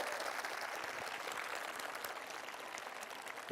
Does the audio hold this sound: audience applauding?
yes